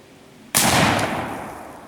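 A black powder gun fires once on a range, a sudden loud close boom followed by a long decaying roar.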